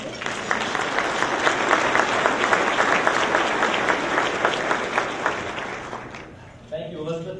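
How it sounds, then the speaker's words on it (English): A room full of people at an Akron Roundtable luncheon applauds in a dense, sustained burst that fades after about six seconds, then a voice begins speaking. "We can give them a round of applause."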